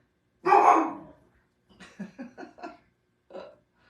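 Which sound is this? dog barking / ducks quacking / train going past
dog barking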